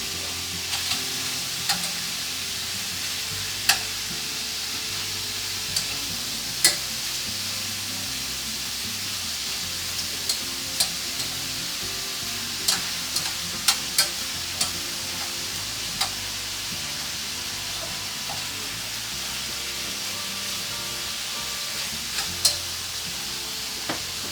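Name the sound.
meat stir-frying and sizzling in a wok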